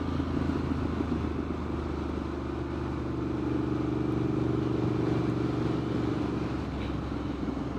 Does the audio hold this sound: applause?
no